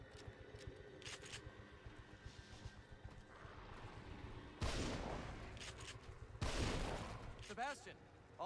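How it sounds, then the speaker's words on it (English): A shotgun fires in the horror game The Evil Within, two heavy, close blasts a couple of seconds apart cutting through quieter game sounds and rustling. "Shotgun it is."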